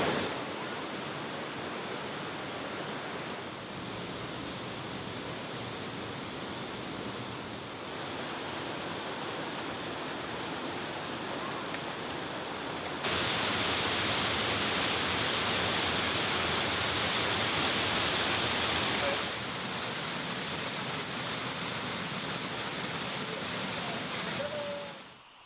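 Jaran Kurus Waterfall in Lombok, a constant broadband rush of falling water, steady and fairly loud throughout, swelling briefly louder midway before settling back, with no clear talk.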